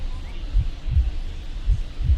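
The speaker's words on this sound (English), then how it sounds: "Why is it still heartbeat?" A low, steady heartbeat thumps in MLB The Show 24 during a baseball game at Busch Stadium, with about four muffled double beats pulsing evenly under faint crowd ambience.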